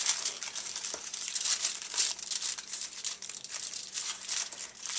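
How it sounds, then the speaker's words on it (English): Aluminum foil crinkles steadily and close up as it is folded over plastic wrap on an eggplant Parmesan dish and pinched down at the edges, a continuous rustling texture with no talking. "you put the foil over, pinch the sides down, making sure to capture the edges of the plastic wrap, folding it up under with it"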